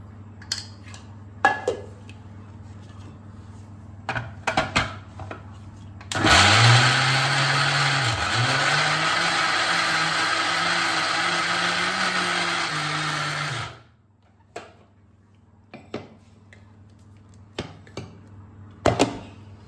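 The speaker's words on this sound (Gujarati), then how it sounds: "એકવાર હજુ આપણે આ રીતે મિક્સ કરી અને ફરી એકવાર પીસી લઈશું" A mixer grinder runs loud and steady for about seven seconds, grinding soaked dal and rice into idli batter, its motor pitch dipping briefly as the load shifts, with scattered kitchen clatter before and after.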